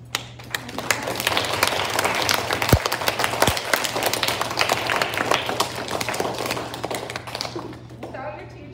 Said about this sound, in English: I want to say a big thank you and a round of applause to Ms.